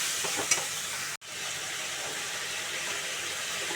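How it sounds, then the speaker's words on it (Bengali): Spice paste sizzling steadily in a pan for a raw jackfruit curry, a continuous close frying hiss with a faint stir early on and one brief dropout in the middle, no voices. "এবার এই মশলাটা আমি কষাবো"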